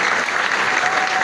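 A church congregation at a Sunday worship service applauds steadily for the Lord, a dense, loud wash of clapping that runs the whole moment without a break.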